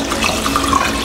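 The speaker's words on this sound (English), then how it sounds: "So the water that I'm going to use to cook the rice, I'm just gonna go ahead and add it" Water runs steadily into a cooking pot, about three to four cups being added for beetroot seasoned rice, a continuous splashing pour heard close and alone with no talking.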